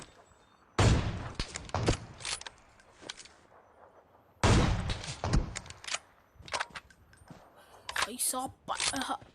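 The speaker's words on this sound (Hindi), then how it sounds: "इतने सारे बंदों को इस AWM से मैंने चिटकाया" Sharp single shots ring out in PUBG: two loud reports from the AWM sniper rifle a few seconds apart, each followed by clattering bolt and mechanical handling noises, with no talking.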